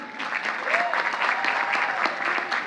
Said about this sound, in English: I want all of you to give another round of applause to our musicians